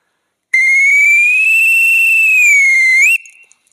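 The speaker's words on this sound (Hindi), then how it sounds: "आप सीटी बजा दीजिएगा" A night patrol guard on a street gives one long, loud, steady blast on a whistle that lasts about two and a half seconds, with a slight rise at the end before it cuts off into silence.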